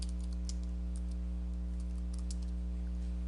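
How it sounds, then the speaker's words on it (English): Computer keyboard typing, a short run of light clicky keystrokes over a loud constant electrical hum. "now I'm just simply going to type in"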